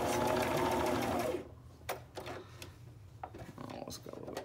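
A sewing machine stitches fabric scrap ribbons in a loud, rapid mechanical whir that stops abruptly after about a second and a half, followed by quieter handling clicks and rustles of fabric.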